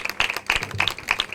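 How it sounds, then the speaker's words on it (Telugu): Congregation at a worship service claps in a steady, quick rhythm to welcome the ministers, with a voice singing or calling over the claps in a short, busy burst. "అందరూ చప్పట్లు కొట్టి వాళ్ళు"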